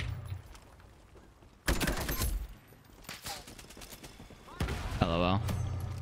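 HK rifle firing in the online shooter game Ironsight, with rapid bursts of automatic gunfire over game effects and a voice talking at the end.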